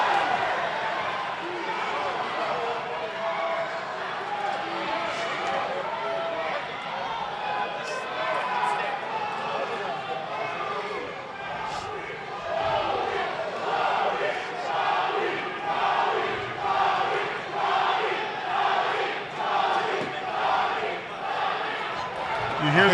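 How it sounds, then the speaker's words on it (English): A crowd at an MMA fight night chants a fighter's name in a rhythmic, swelling roar that grows stronger toward the end, heard from a distance with voices talking over it. "They chant Antonio Garcia on."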